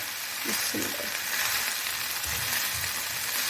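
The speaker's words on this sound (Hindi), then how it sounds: "अब इनको भी मैं मीडियम फ्लेम पे पकाऊंगी 2 से 3 मिनट तक।" Chicken fries on medium flame in a pan with chopped chilies, giving a dense, steady sizzle close up, with a few soft stirring movements and no talk.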